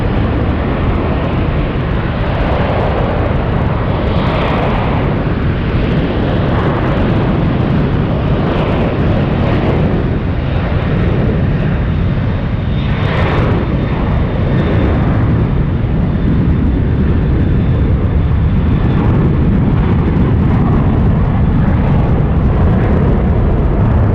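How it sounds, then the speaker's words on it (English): A Boeing 777 freighter powered by GE90 engines departs, giving a loud, steady, broadband roar that swells and rumbles continuously throughout without pause. "have 777 cargo powered by GE90s departing on the ones."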